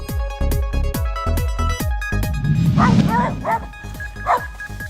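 Two small dogs bark rapidly and yip at a large bear, sharp repeated close barks with whimpering, and a voice talks over the second half.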